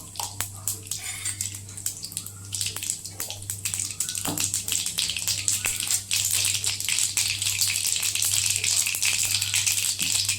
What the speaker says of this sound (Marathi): मोहरी तडतडली की थोडेसे जिरे टाकूया।